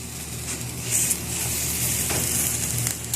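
Chicken barbecue sizzles steadily as it cooks, a continuous close frying hiss with faint crackles throughout, no talking.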